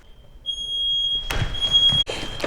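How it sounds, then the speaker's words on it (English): Fire alarm going off inside an abandoned, partly flooded house in a deserted Oregon town: a steady high electronic beep sounds alone, then continues under rustling, footsteps and movement nearby. "I think that was a fire alarm."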